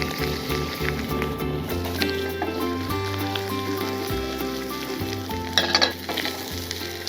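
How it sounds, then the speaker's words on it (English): Sweet potatoes frying in olive oil, a steady close sizzle with stirring clatter, while background music with a strong bass line plays throughout. "Toss them around a little bit in that olive oil"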